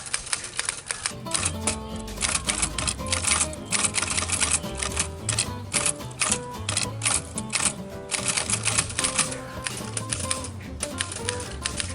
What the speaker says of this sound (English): I'm telling you, this typewriter is incredible.